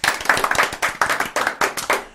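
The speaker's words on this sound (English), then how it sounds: "Round of applause, everybody." A small group claps during a radio show after a live musical performance, close and uneven clapping in short bursts, each burst of hands fading before the next.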